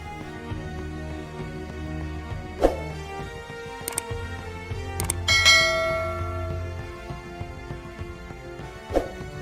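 A bell sound effect rings out in a handful of bright, separate strikes over a steady tonal background, each chime clear and close.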